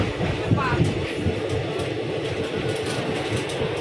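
Continuous rumble and rattle of the Lalgola passenger train in motion, heard from inside a carriage, with a brief faint squeal early on.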